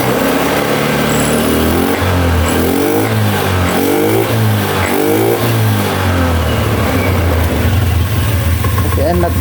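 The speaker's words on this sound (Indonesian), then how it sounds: "Sekarang kita starter. Motornya mudah hidup." A Honda Beat ESP scooter engine is started and left idling, a loud close buzzing putter with a brief revving swell in the middle, and a voice talking over it.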